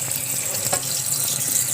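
Tap water runs into a cooking pot, making a steady, close hiss of pouring water that lasts the whole short moment with no pauses.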